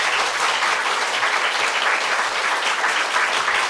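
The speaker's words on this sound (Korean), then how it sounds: "큰 박수로 환영하도록 하겠습니다." A church audience gives a pastor a big welcoming round of applause, a dense, steady wash of clapping from many hands that holds at an even loudness throughout, with no talk over it.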